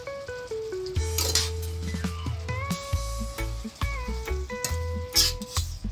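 Kingfish and onion fry in a pan for Jamaican escovitch fish, a steady close sizzle broken by clinks and scrapes of utensils against the pot, with background music playing underneath.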